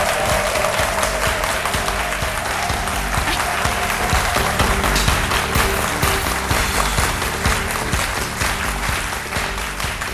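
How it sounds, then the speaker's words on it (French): Dense, steady applause from a crowd fills the whole stretch, loud and continuous with no pause or voice over it. "On la reçoit ici avec des applaudissements bien fournis."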